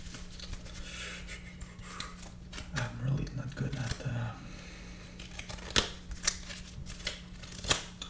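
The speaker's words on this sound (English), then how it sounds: "Shuffling cards." Crisp riffling and snapping of shuffled playing cards, a dense flutter burst in the middle followed by a few sharp slaps, recorded close with no talking.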